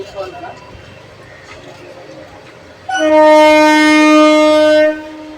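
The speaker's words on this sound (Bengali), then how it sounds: "ট্রেনটাও ছেড়ে এগিয়ে আসছে আস্তে আস্তে" A Kolkata local train pulling out of a station toward Sealdah sounds a loud, sustained horn for about two seconds, preceded by a rumbling platform bustle with nearby speech.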